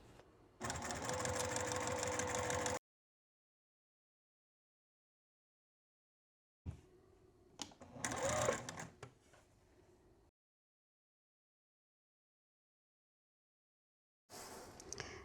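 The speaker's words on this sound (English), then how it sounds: "now I'm just going to attach those strips to the top and bottom of each lantern" A sewing machine stitches fabric strips onto the top and bottom of lantern quilt blocks, running in three bursts: a steady loud whir for about two seconds, a rougher stop-start run, then another start at the end, with silence between.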